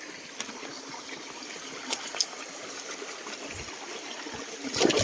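River water flows steadily at a place where the river's contents are said to have been poisoned, a continuous soft rushing and trickle with a few brief clinks, moderately close and with no voices.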